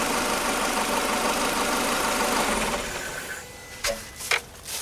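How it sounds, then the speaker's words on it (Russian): An air compressor engine used to fill a pre-charged air rifle runs with a loud, steady mechanical hum, then is switched off near the end, leaving a few short clicks and knocks. "Сейчас я выключу двигатель."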